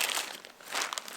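Plastic bags crinkle and crumple up close in a quick, brittle rustle while hiking gear is packed, with no talking.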